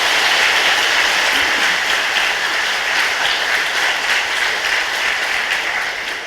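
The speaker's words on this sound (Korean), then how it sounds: "우리 광주 한빛교회를 위해서 박수 한번 하겠습니다." A church congregation at Gwangju Hanbit Church applauds, a dense steady wash of many hands clapping that carries evenly for several seconds and tapers slightly at the end, with no talk over it.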